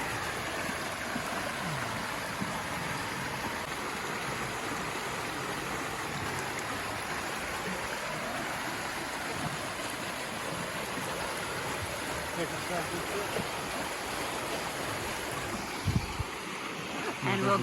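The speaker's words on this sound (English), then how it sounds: "like this water is flowing really, really good" Creek water rushes steadily near a small bridge outdoors, a broad continuous wash that holds even throughout with no pauses, running alone without voices.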